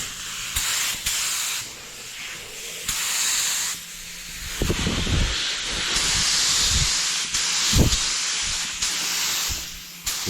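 Spray gun laying candy metallic paint onto Harley-Davidson tins: bursts of loud, airy hiss that start and stop repeatedly, close to the microphone, with short pauses and light clicks between passes.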